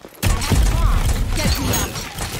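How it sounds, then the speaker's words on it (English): A Kestrel bomb drop in Rogue Company lands with a sudden loud impact and shattering burst, followed by a rumbling, crackling roar that holds for a couple of seconds, with brief voice sounds mixed in. "Bomb drop."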